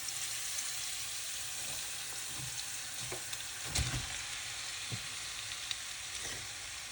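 Rice stir-fried in a pan for Chinese fried rice, a steady faint sizzle throughout with a few soft scraping stirs and one brief clunk of a utensil midway.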